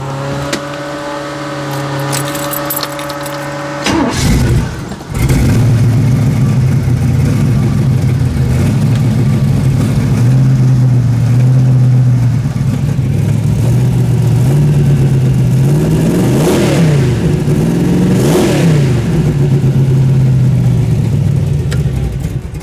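A 2016 Chevy S10 truck fitted with NOS idles with a tonal engine hum, cuts out briefly, then restarts and runs loud and steady, with two rising revs near the end.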